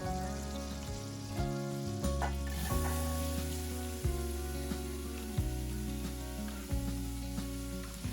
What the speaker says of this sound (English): in a large pot, I've melted about 2 tablespoons of butter, and I'm adding in my celery, carrots, and onions